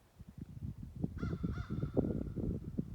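Crows caw from a tree in a series of harsh calls over rustling, thumping noise nearby, moderately loud and outdoors.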